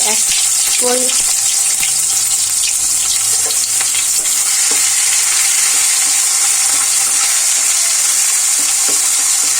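Cumin, garlic and onion pastes frying for a fish-head muri ghonto, a steady close broadband sizzle with occasional stirring and faint clinks running throughout.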